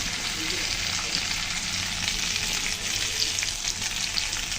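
Steady loud sizzling of potato curry (aloo dum) frying in a pan as water goes in, a continuous hissing, bubbling texture with no talk over it.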